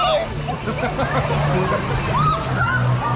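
Water sloshing and splashing around continuously in a fast-moving water park pool, with excited voices and laughter mixed in over the churning waves.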